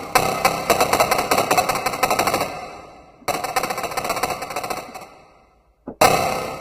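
Battery 4 drum strokes triggered from a keyboard, rapid sharp repeated hits in quick bursts that stop abruptly, then another burst, a brief gap, and a final loud stroke, close and dry with no talking.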